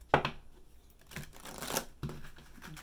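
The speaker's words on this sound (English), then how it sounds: "These cards are hard to shuffle for me because I have little hands." Tarot cards are shuffled in a few quick riffling bursts, close and fairly quiet, with short pauses between them.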